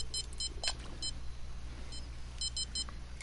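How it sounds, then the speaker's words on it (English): Beeping alert in the fishing game Fishing Planet: short high electronic beeps in quick pairs and triplets, repeating irregularly over a steady low background hum, fairly faint with no talking. "Yeah, I hear the beeping,"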